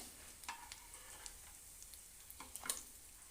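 A snack fries quietly in a pan and is turned over, with a soft sizzle and a scattering of light clicks and taps from the utensil. The sound is faint and close, with no talking.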